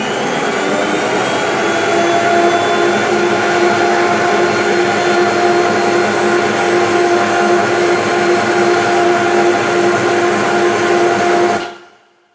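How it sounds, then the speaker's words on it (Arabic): An electric mixer whirs at high speed, whisking five eggs for a sponge cake, a loud, steady motor whine that holds without a break and then cuts off near the end. "غادي نبدا نحرك، وفي نفس الوقت غادي نضيف ذاك الماء اللي قلت لكم دافي"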